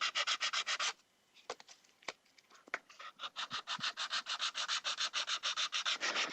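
Sandpaper scrubs a plastic melee prop in quick, even back-and-forth strokes, stopping briefly for a few scattered scratches before the rhythmic rasping picks up again, close and alone.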